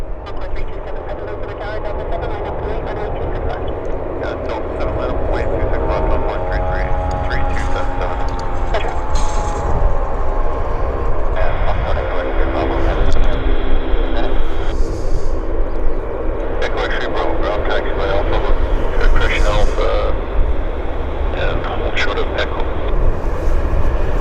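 A Dash turboprop airliner taxis at Vancouver airport, its steady engine drone sustained throughout under continuous talk.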